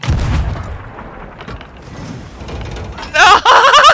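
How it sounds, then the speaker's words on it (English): A ship's cannon fires in the pirate video game Sea of Thieves: a heavy, booming low blast opens the moment. Excited voices shout and talk over the rest. "then shoot one of the cannons. Kaboom!"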